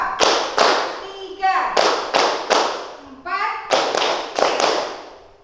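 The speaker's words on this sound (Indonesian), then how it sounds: "Oke, tepuk tangan." A class of children stands and claps out a counted clap chant in short rhythmic bursts, with a teacher's voice and children's voices calling between the groups of claps.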